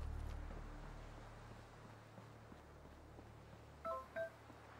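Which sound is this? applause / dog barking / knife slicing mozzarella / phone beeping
phone beeping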